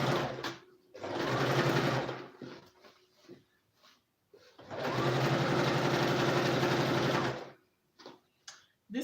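An electric sewing machine stitching a dart on a blouse, with two sustained bursts of steady, rapid whirring stitching a few seconds apart, separated by quiet pauses and small handling clicks.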